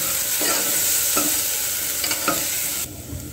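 A coconut and raw onion spice paste fries in hot oil in a pan, a loud steady sizzle with a few soft stirring scrapes, close and continuous until it drops away near the end.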